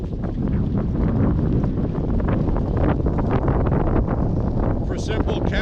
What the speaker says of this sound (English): excuse me, it's very windy